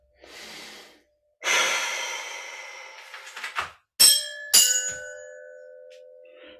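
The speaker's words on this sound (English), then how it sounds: "just take a deep breath" A deep breath drawn in and let out slowly, breathy hiss rising then fading, followed by a few faint clicks and a bright bell-like ding ringing on.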